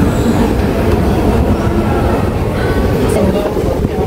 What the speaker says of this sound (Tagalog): Nandito na tayo sa tren. Nasa subway ako guys.